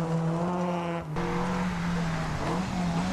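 A front-wheel-drive rally car at the Westlakes Rally Sprint, its engine revving hard in a loud, buzzing, steady note that briefly cuts out as it shifts gear, then pulls on with a slight pitch waver.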